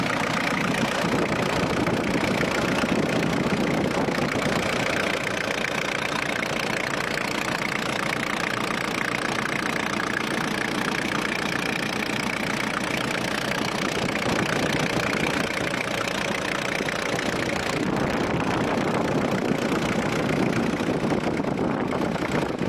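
A car engine runs steadily and close throughout, a dense, rumbling idle with a faint knocking texture and no pauses.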